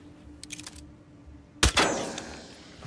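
A fire extinguisher blown up in the Hitman video game, set in Marrakesh: a single sharp, loud blast followed by a short rushing, hissing tail, preceded by a few faint clicks over quiet background hum.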